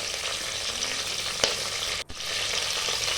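Curry leaves fry in hot oil for pongal with a steady, close sizzle that runs throughout. There is a short tap partway through and a brief dip in the sizzle just after it.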